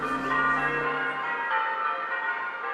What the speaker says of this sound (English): The church bells you hear